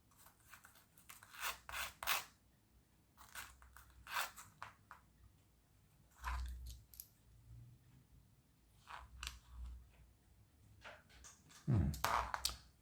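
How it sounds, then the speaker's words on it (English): Short bursts of scraping and rasping in uneven strokes, close by, separated by brief pauses, like hand sanding a small wooden part for a model car. "Just do a little bit of sanding."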